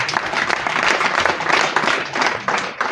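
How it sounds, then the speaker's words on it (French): An audience applauds at a ceremony launching an orphan aid project, a dense burst of many hands clapping for about three seconds, loud and close, with faint voices mixed in. "On applaudit pour lui, s'il vous plaît."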